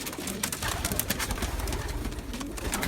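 A pigeon hen, a thief hen kept among fancy birds, coos in low, repeated, close calls over constant outdoor rustle and hiss.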